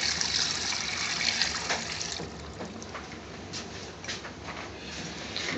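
Water pours steadily into a blender jar holding garlic cloves and vegetable oil, a continuous splashing gush at close range with no talking.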